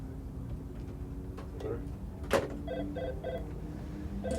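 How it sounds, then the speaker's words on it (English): A telephone dialing and ringing on a call line: a sequence of short repeated electronic tones in a steady pattern over a background hum, with a brief click before it. "Your phone's ringing, you're on."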